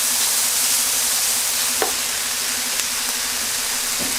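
Salt, pepper, cumin and stock powder are stirred into a pan of vegetables for a vegetarian brown rice casserole, giving a constant loud sizzling hiss over a faint low hum. A few sharp utensil clicks are scattered through it.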